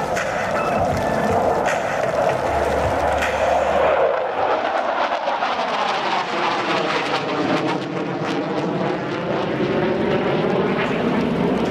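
A Ramex Delta jet aircraft powering up at the Istres 2016 air show, a loud, close roar with a shifting, sweeping whine as the engine note changes, with no voices.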